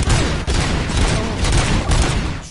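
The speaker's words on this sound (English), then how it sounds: "Shooting at me." Dense, continuous gunfire from enemies in the shooter RoboCop: Rogue City, loud and nearly unbroken bursts with booming impacts throughout.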